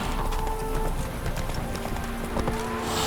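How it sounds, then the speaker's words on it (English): In The Witcher 3: Wild Hunt, a horse gallops steadily on, its hoofbeats clip-clopping in a continuous rhythm over a dense game ambience, with no voices. "Run, Roach."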